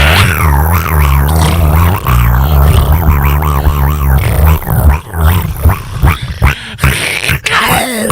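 A person imitates a panther growl with their voice, making loud, rough, rumbling growls that break into choppy snarls and yips toward the end, close up.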